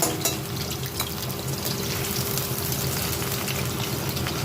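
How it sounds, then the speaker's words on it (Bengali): Small diced potatoes fry in a pan of oil for a curry, giving a steady, close crackling sizzle with a low hum beneath and no talking. "এবার আলুগুলো আমি ভেজে নেব।"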